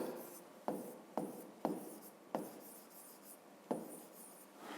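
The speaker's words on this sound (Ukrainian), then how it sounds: "Записуємо тоді, отже, ці тіла пишемо." A pen writes in a notebook, close and quiet, with short scratchy strokes and a few firm taps as words are set down.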